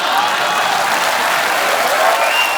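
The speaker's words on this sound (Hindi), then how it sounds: "कुछ भी नहीं कहना फिर भी ताली और हंसी।" Studio audience applause on a comedy talk show, a dense steady wash of many hands clapping, loud and close throughout with no break.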